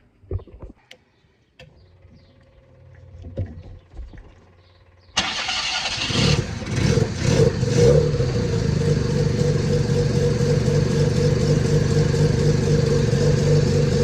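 A rotary-engine trike with a freshly tuned carburettor and raised idle starts up and roars off, its loud, steady engine note holding near and constant after quieter clatter at the start.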